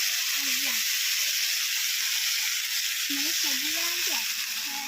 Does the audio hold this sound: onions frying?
yes